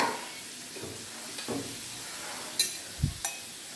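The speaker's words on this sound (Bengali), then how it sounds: "মশলাটাকে আমি ভালোভাবে কষিয়ে নেব।" A spice paste of turmeric, chili powder, chopped onion and ground pistachio is stirred in a pan, giving a faint steady sizzle broken by a few close scrapes and clacks of the spoon.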